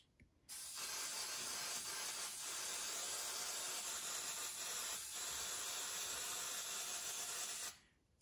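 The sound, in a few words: hairspray aerosol spraying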